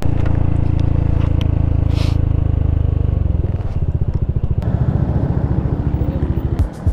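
A Yamaha NMAX V2 scooter fitted with an RS8 exhaust pipe rides at night. A loud, close engine drones steadily, then shifts into a throbbing, pulsing exhaust note as it slows and fades near the end.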